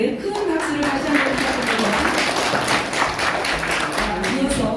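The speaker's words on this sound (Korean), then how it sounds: "감사하신 이우정 총재님께 큰 박수를 다시 한번" Audience at a Korean women's association symposium in a National Assembly meeting room claps for an honoured chairperson, a steady round of applause with a voice speaking over it through much of the clip.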